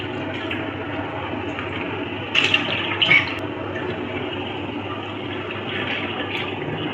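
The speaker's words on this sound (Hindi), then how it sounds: "तो हमने 3 लीटर ऑयल डाल दिया।" Three litres of cooking oil pour into a large pot for a big batch of aloo shimla mirch gravy, a steady continuous liquid rush held for several seconds with a couple of brief clinks partway through, no talking.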